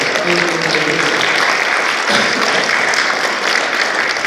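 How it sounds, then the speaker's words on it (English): Steady, dense applause from a large congregation at a church worship service, loud and continuous throughout with no break. "Give the Lord a hand clap of praise."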